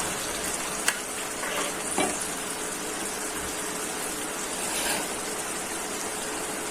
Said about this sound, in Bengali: হালকা একটু জল দিয়ে নিই।